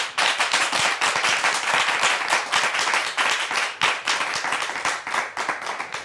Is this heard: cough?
no